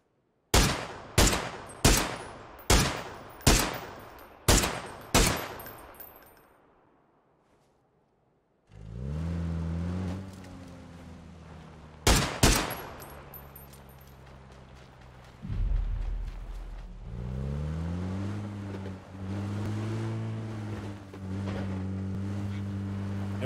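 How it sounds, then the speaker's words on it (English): Gunfire in a shooter video game: a rapid string of seven sharp, loud shots, a pause, then two more cracks over a droning vehicle engine that rises and shifts pitch. "I heard like shots"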